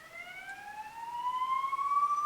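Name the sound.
ambulance siren in the background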